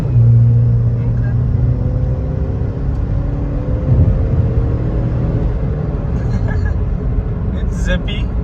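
A Chevy HHR SS turbo accelerates hard from a standstill with wheel spin, its engine drone rising in pitch under a heavy rumble heard from inside the cabin, with a driver's voice briefly over it.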